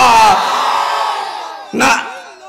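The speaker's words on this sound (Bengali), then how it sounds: "হাত তুলে তাকবীর দিয়ে দেখায় দাও রাজি আছো" A large crowd at a religious sermon gathering roars a takbir chant in one loud, sustained mass of voices that trails off, then a second short shout rises before fading.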